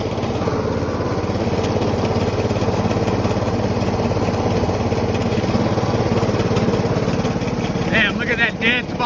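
Snapper riding lawnmower with a Briggs & Stratton engine driving along in second gear: a loud, steady droning engine close by, with someone talking over it toward the end.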